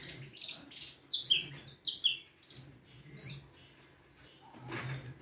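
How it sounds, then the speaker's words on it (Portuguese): A canary sings in a breeding room, repeated bright trilling phrases and chirps in short bursts, fairly close, with quieter chatter between them and no talking. "Começou a cantar o Thor Júnior."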